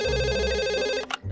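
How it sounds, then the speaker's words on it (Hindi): A cartoon telephone rings in a loud, bright electronic trill that cuts off after about a second, followed by a brief click and quiet. "फिर फोन आ गया।"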